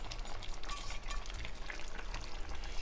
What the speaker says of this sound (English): So I am going to add the onions, the pearl onions that I already pre-cooked